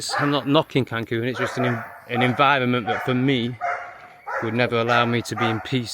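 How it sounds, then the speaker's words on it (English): A dog barks and yips in the background in Cancun, short bursts scattered under continuous talk from a person speaking in the foreground. "Sorry about the crazy dog in the background."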